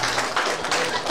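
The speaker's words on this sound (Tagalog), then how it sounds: "palapakan natin" Audience applause at a maritime procession and Bangca-Bangca festival, a steady wash of crowd clapping lasting about a second without pause, fairly loud and continuous.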